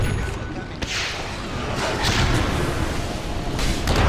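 A couple of booming bomb explosions in the video game Dota 2 burst out over a dense, noisy backdrop of game effects, during a professional esports match.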